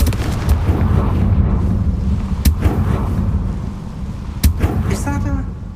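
The Confringo fire spell in Hogwarts Legacy lets off loud explosive blasts, with sharp booming bursts over a constant rumbling game soundscape, and brief chiming effects near the end.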